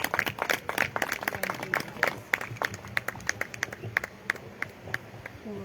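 A church congregation claps together in a steady, rhythmic beat, many hands striking in unison over a murmuring room background.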